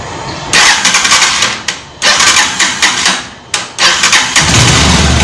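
A motorcycle engine, freshly cleaned carburetor, cranks in several loud, rough bursts with brief pauses between them, then catches and settles into a steady close-up running rumble.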